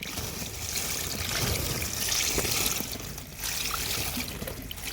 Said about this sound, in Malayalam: നമുക്കിന്നും ഇങ്ങനെ വെള്ളം തളിച്ച് കൊടുക്കണം